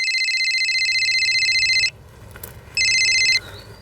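A telephone rings loudly and close, one long electronic trilling burst, a short pause, then a second shorter burst, with no talk over it.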